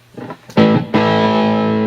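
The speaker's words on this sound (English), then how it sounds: "That's distortion. Overdrive is what it's called." Overdrive distortion on a buzzy, fuzzy tone: a couple of short, rough bursts, then a loud sustained distorted note that holds steady to the end.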